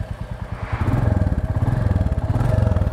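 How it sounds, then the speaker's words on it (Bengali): A Royal Enfield Classic 350 in Gunmetal Grey thumps along while being ridden, its single-cylinder exhaust pulsing in a fast, even beat that grows louder and steadier after the first second, heard close up. "আমরা বাইকটা একটু রাইড করি"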